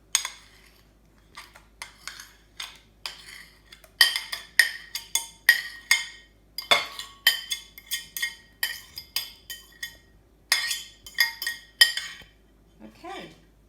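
Sliced bananas dropped into a bowl while utensils clink repeatedly against it, a quick irregular series of close, bright taps and scrapes in a quiet kitchen, with a brief voice near the end.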